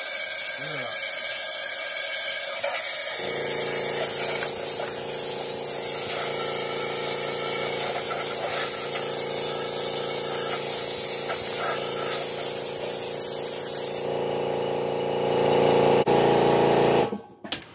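Compressed air hisses loudly as it blows debris out of a spark plug hole on a 2003 Ford Focus engine, a sustained spray that runs for about fourteen seconds before cutting off into a quieter tone.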